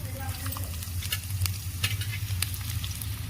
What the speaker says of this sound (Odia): ଏବେ କଟା ଯାଇଥିବା ପିଆଜ ଦେଇଦେବା।